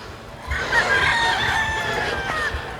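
A brood stag rooster crows once nearby, a drawn-out, loud call over faint background farm noise.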